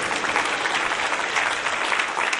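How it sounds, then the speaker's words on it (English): Steady, dense applause from a music festival audience at an Indian shehnai recital, sustained and fairly loud throughout with no talking over it. "So thank you very much for applauding."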